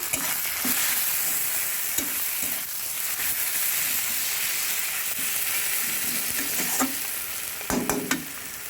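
Meat curry spice paste frying in a pan, a loud steady sizzle with repeated scraping stirs and occasional metallic knocks of the spoon, close up and alone without voices.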